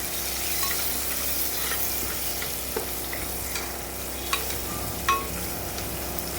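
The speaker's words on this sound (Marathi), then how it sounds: "आणि परत कांदा आणि मसाले टाकले. बघू शकता. आता थोडं ढवळून घ्यायचं." Onion and spices fry in oil with cumin in a home kitchen pan, giving a steady soft sizzle while a spoon stirs now and then with a few light scraping clicks.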